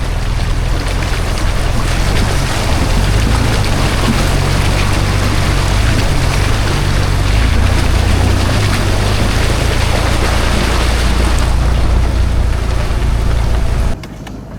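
A Jeep crossing a creek, with a steady, loud rush of churning water and engine rumble that carries on unbroken for about fourteen seconds before dropping off sharply at the end, with no talking.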